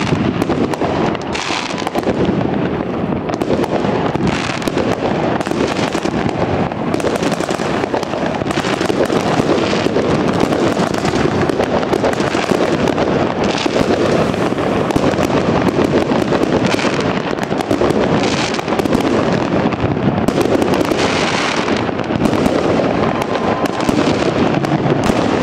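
New Year 2024 fireworks explode over the Stogi district of Gdańsk, a dense, continuous barrage of bangs and crackles filling the night sky with steady loud booms and wind buffeting the microphone.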